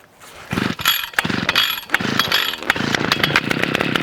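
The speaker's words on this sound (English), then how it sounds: "go ahead and pull it, and then as soon as it sputters, we'll take it off choke" An Echo SRM-410U brush trimmer is pull-started: several rapid rasping cord pulls with sputtering catches, then the small two-stroke engine fires and keeps running with a loud, buzzing, rough idle.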